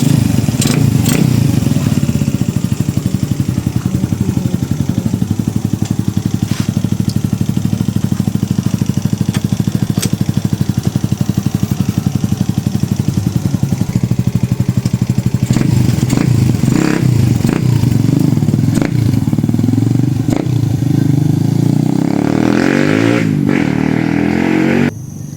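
A motorcycle engine runs continuously to warm up, a loud close idle with rhythmic mechanical clatter and occasional revs and knocks, with no talking.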